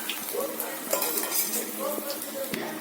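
Medu vada, urad dal fritters, frying in hot oil: a steady low sizzle runs throughout, broken by light metallic clinks and scrapes of a utensil against the pan.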